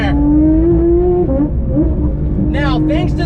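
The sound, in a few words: 992 Porsche 911 GT3 engine revving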